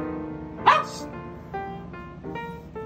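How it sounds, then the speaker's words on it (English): A single sharp dog bark near the start, followed by quieter whines and yips against a low background hum. "That is my dog barking."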